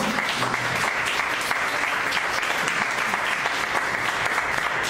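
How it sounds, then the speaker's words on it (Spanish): A church congregation breaks into sustained applause during a Spanish-language sermon, with dense, loud, even clapping filling the whole stretch with no pauses. "Así que dale una ofrenda de palmas a él."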